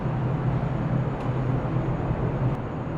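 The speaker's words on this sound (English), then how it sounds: "pardon the noise, the vacuum is on." A steady, droning mechanical hum from a vacuum running in a glider factory spray booth, with a strong low tone, unbroken and fairly loud, filling the space with no voices.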